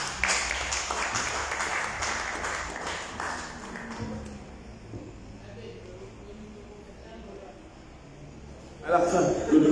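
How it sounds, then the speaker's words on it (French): Applause from a conference audience at a lay apostolate commission gathering, loudest at the start and fading away within a few seconds, followed by quieter room sound and a voice. "Applaudissez pour vous-même."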